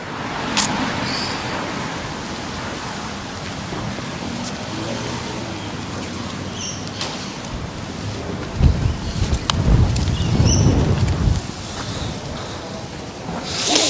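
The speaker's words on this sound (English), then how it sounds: "It's starting to blow a gale." Gale-force wind gusts roar against the microphone in Surry Hills, Sydney, swelling louder toward the end, with a rumbling low-end buffet and scattered clatter; no one speaks.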